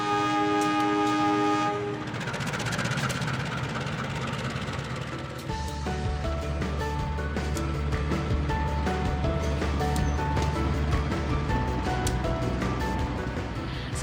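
A train on the reactivated Cibatu–Garut railway line sounds a loud horn, then rumbles and clatters steadily close by, with brief squeals over the continuous rolling noise.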